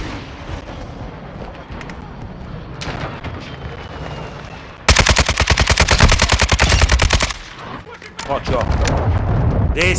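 AK rifle gunfire in the shooter game Modern Warfare 2022, a loud rapid burst of automatic shots lasting a couple of seconds, set among quieter distant battle noise and followed by more firing.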